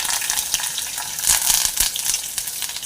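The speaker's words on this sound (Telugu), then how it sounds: "ఆవాలు, జీలకర్ర, కొంచెం పచ్చనపప్పు, కొంచెం మినపగుళ్ళు, మిగతాయి ఇవన్నీ వేసేసుకుందాం." Mustard seeds, cumin, chana dal and urad dal fry in hot oil as a tempering for semiya pulihora, giving a steady, close crackling sizzle with sharp popping bursts throughout.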